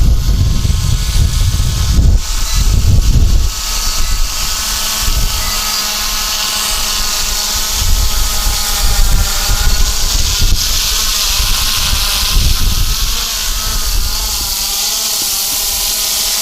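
A Hubsan X4 Pro H109S GPS quadcopter drone hovers in place with a steady, high-pitched propeller whine, fairly close and loud, with wind buffeting the microphone now and then.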